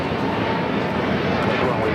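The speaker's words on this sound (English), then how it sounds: "This is Spirit Airlines 3787 taking off to Detroit on the A320neo" Spirit Airlines Airbus A320neo taking off from Los Angeles airport: a loud, continuous broadband jet engine roar with a person talking over it.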